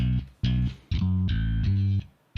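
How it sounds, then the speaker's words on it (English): A funk bass line doubled on guitar, a handful of thick, punchy low notes in a short syncopated phrase with brief gaps between them, loud and close with no voice. "this is just the bass part right here"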